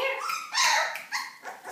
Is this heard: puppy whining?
yes